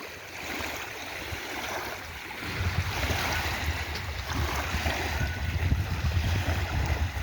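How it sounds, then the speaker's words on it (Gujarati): Water at the Dantiwada dam reservoir rushes and splashes in a steady, broad wash with no break, growing somewhat louder and rougher partway through. "પાણીનો અવાજ પણ તમે સાંભળી શકતા હશો કે પાણી કેવી ઝાલોકો મારી રહ્યું છે"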